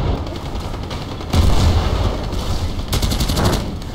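Distant gunfire in the online shooter game Battlefield Play4Free on the Oman map, a continuous rattling burst of shots with a louder surge midway, heard alone.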